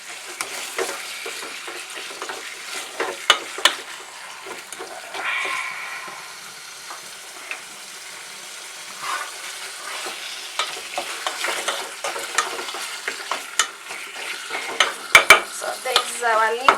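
Beetroot rice frying in a pan over medium heat and being stirred, heard as a close, steady sizzle broken by scraping strokes and utensil clinks against the pan, with no talk.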